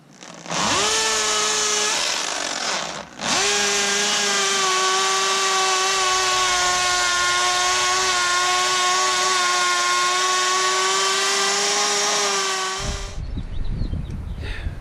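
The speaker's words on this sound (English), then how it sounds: "We got a hammer drill, and we're down to 4 feet." A hammer drill driving a ground rod into backyard soil for a ham radio vertical antenna, running as a loud steady motor whine with a brief stop near three seconds, then continuing until it cuts off, no talk.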